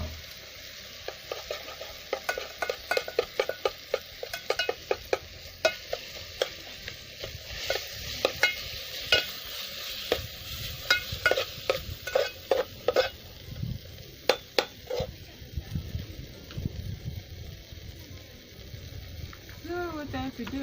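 Chips frying in a little oil during village-style outdoor cooking of bananas, sizzling steadily while sharp clanks and scrapes from stirring punctuate it, with a voice speaking over parts of it.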